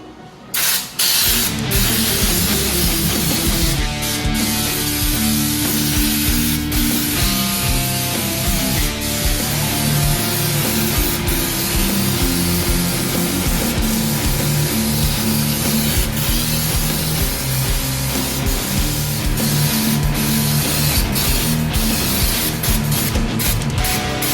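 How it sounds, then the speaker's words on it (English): A steady, continuous hiss of an aerosol can spraying bed liner, loud and close, running almost unbroken with a rattling mechanical texture underneath. "let me go ahead and spray this one"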